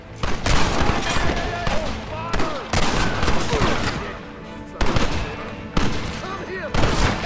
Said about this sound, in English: Gatling gun, use it!